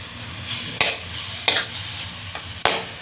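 A utensil scrapes and stirs ground meat in a pan with a few sharp clinks against the metal, over a faint background sizzle.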